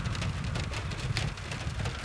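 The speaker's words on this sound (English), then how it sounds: "Let me show you the rain." Rain falls steadily and heavily outdoors onto a roof overhead, a dense close hiss with low rumbling underneath and no speech.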